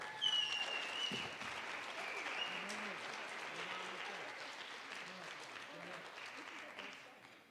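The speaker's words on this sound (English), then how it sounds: "Let's give them a round of applause, folks" An audience bursts into sustained applause for the organizers of a summit, a dense wash of many hands clapping that swells at the start and slowly tapers off, with scattered voices and a faint whistle in the crowd.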